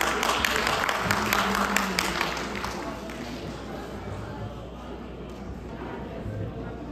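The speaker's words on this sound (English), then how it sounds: "Can we have a round of applause, please?" A crowd applauds, the clapping dense at first and then tapering off while someone speaks over it.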